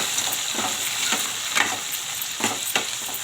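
Tomato and onion pieces sizzle loudly in a hot pan while a spoon stirs them in a few scraping strokes, the frying hiss steady and close throughout.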